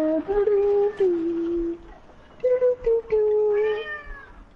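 A cat meows along to someone singing during a PS4 live broadcast, giving two long, drawn-out, wavering meows with a short pause between them. The meows are close and loud.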